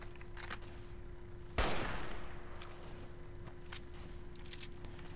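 A single loud gunshot in Fallout: New Vegas, with its echo trailing off, set against a quiet background with a steady hum and a few faint clicks.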